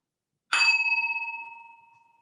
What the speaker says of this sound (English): I'm going to begin with the little bell